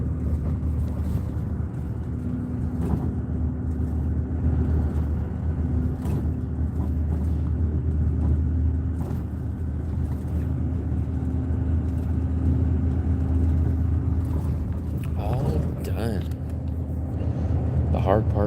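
A bus engine drones through a ride, a steady low rumble with wind buffeting and road noise that holds constant throughout, with someone talking over it at times.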